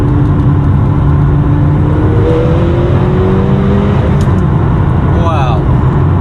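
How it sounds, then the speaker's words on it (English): A McLaren GT fitted with a titanium Valvetronic exhaust accelerates, its engine drone steady and loud throughout with a slowly rising tone, heard from inside the car. "I'll accelerate to the speed limit, that's about it."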